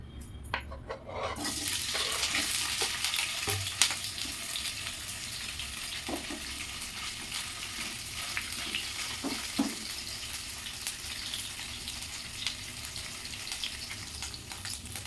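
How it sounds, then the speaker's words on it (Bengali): Paneer and vegetables hiss in hot white oil in a wok, a continuous broad sizzle with scattered crackles and small clinks, fairly quiet and steady throughout. "কড়াতে সাদা তেল গরম করে নিয়েছি এবার এর মধ্যে আমি পনির ও সবজিগুলো ভেজে নেব"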